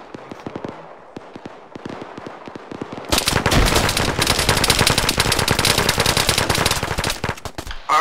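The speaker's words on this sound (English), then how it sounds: "Frag out northeast" Gunfire in Arma 3 during a close firefight at a compound: scattered sharp shots for the first three seconds, then a loud, dense, sustained burst of overlapping automatic fire and blasts that may include a frag grenade explosion, with no talk.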